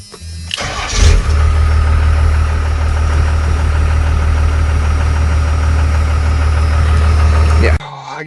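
A truck with a Dana 70 axle fires up and settles into a loud, steady idle, its deep engine rumble running close and continuous before cutting off near the end.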